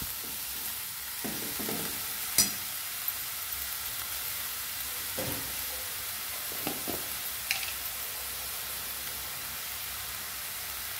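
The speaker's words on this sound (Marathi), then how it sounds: "अशा पद्धतीने आपल्याला कोबी सर्व छान हलवून घ्यायचं आहे बघा" Shredded cabbage being stirred in a frying pan, a soft steady sizzle broken by a few scraping strokes and light clicks of the spoon against the pan, with no one speaking.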